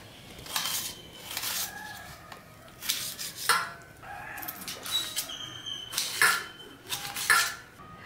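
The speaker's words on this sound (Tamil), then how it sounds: "ஒரு தக்காளியை வந்து கட் பண்ணி எடுத்துக்கலாம்." A series of crisp knife strikes against a cutting board while cutting a tomato, irregular chops and taps spaced about a second apart, close and fairly clear.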